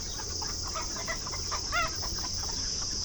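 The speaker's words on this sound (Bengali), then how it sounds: "এগুলো মুরগি দেখুন" Chickens at a farm in Abu Dhabi during extreme summer heat, with soft, intermittent clucks and a few short calls rising over a steady background hiss, moderately close.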